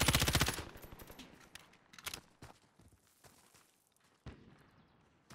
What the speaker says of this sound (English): there's some shots going on right over here